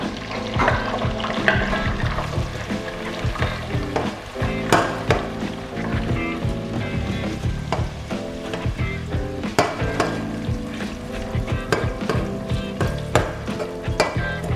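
Onion frying in a pan for a red stew, a close crackling sizzle with scraping and stirring clatter over a steady hiss throughout.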